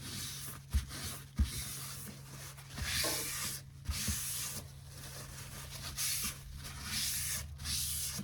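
A Spyderco Para 3 knife with a CPM 15V steel blade is sharpened freehand on a 600-grit stone. Repeated close-up rasping strokes sweep back and forth in an uneven rhythm, with a couple of sharp knocks near the start and no talking.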